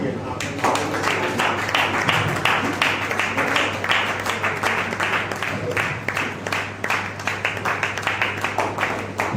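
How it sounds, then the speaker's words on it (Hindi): Steady applause from an audience at a book event, dense overlapping claps sustained throughout at even loudness with a low hum underneath. "सभी तालियां"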